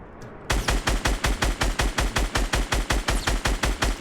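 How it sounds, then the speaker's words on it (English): Rapid, loud automatic gunfire in the Fortnite video game fires in an even rhythm of about eight shots per second, continuous after a short quiet start. "I'm getting shot in the back."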